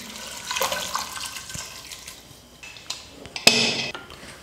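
Water splashes into a pressure cooker holding tamarind and toor dal for a sirukeerai kulambu, heard as irregular pouring bursts mixed with metallic clinks of the pot, ending in a sharper louder splash.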